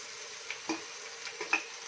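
Onions sauteing lightly in a pan for masala oats, a soft sizzle with faint scraping stir strokes and small clicks of a spoon against the pan.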